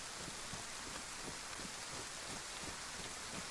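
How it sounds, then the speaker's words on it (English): Steady rain falling in the DayZ video game world, a dense continuous hiss of drops with no voices, evenly loud throughout. "it may play into my hands again that it's raining, which will keep people indoors"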